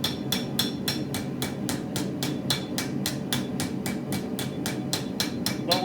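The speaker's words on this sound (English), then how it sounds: "So that my hammer blows are even around and around and around and around." Hammer blows shaping a copper bowl, about twenty even, sharp metallic strikes in a steady rhythm, close and clear over a low background hum.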